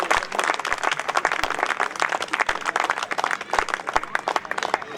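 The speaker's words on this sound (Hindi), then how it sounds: "एक बार जोरदार तालियों से उसका स्वागत करें।" Loud, sustained applause from a crowd at a Hindi comic poetry gathering, dense clapping that continues throughout without talk.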